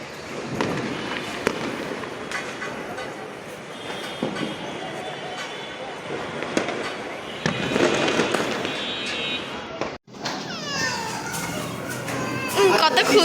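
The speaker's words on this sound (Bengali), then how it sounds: "হ্যাঁ অনেক বম ফাটায়, সবাই এখন যাচ্ছে বম দেখতে।" New Year firecrackers burst in repeated sharp bangs and crackling volleys, some near and some distant, while children talk and shout excitedly over them.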